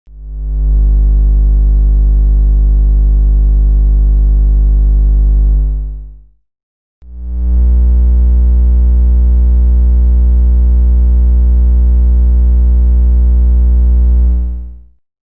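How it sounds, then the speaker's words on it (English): Low electrical ground noise: a steady mains-frequency hum, rich in buzzing harmonics, sounds loud and alone in two sustained bursts of about six and seven seconds separated by a short silence. "The electrical ground noise."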